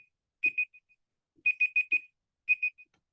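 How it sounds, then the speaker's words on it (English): A phone alarm rings nearby in repeated electronic beeping bursts, a pair of tones, then a fast run of four, then another pair, with silence between the groups and no talk. "suddenly there was an alarm that rang"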